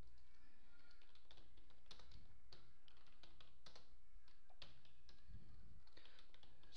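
Computer keyboard keys clicked while typing C++ code, a quiet close-up run of irregular taps and short bursts, with no voices.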